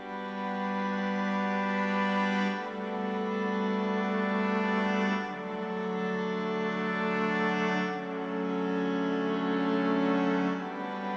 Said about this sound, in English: And also you have the cello progression right here, which sounds like this on its own.